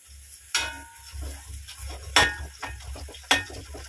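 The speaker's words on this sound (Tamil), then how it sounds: "இப்போ நம்ம போட்டிருந்த அந்த வாழைக்காயை திருப்பி போட்டுக்குவோம்" Pieces of raw plantain turned over in a hot frying pan, with three sharp scraping clatters of a utensil against the pan over a low, steady sizzle of oil.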